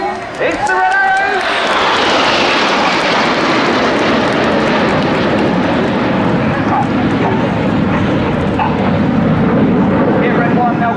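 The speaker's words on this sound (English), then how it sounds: "The jets will now balance around 6 feet away from each other." Display team jets roar overhead at the Bournemouth Air Show 2014, a loud sustained engine blast with a descending whine as they pass, while a commentator talks over the public address.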